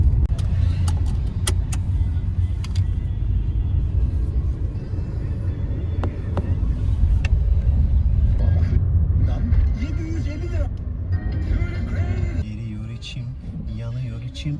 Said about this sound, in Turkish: Çok trafik var gidiyoruz.